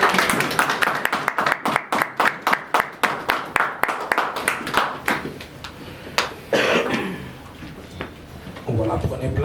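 A church congregation claps in a steady, rhythmic beat to acclaim the Lord during a Sunday worship service, many hands close and lively, with voices calling out among them before the clapping fades into chatter.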